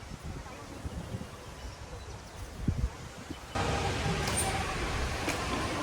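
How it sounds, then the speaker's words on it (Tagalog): Wind blowing outdoors at Motiongate theme park in Dubai makes a steady, broadband rush across the microphone. Partway through it swells and stays noticeably louder, with no talking. "Ang hangin, no? Kung naririnig nyo."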